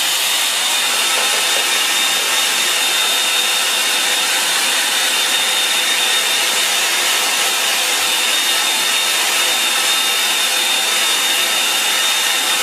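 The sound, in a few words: hair dryer drying a watercolour painting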